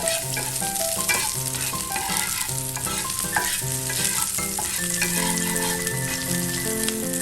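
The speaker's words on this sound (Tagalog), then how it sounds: "In the same pan, you start to saute onion and garlic together." Onion and garlic sizzle steadily in a pan over medium heat, a continuous close frying hiss with occasional stirring scrapes and background music.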